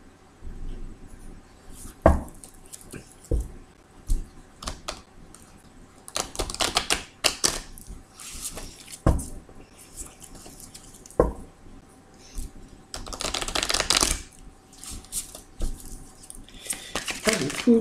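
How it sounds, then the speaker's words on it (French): A deck of tarot cards shuffled by hand, giving bursts of crisp riffling and flicking card noise in uneven clusters, with louder, longer flurries toward the end and brief taps between them. "je vais bien mélanger le jeu"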